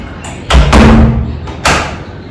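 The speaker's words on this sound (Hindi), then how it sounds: "झूठ बोल रही है, मम्मा ही दरवाज़ा नॉक किया" Someone knocks on a door with a few loud, heavy thuds: a quick pair of raps, a pause, then one more knock, all close by.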